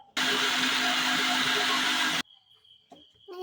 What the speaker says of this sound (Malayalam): ഇനി നമ്മൾ ജാറിലേക്ക് മിക്സിയിലേക്ക് ആക്കാൻ പോകുന്നത് കേട്ടോ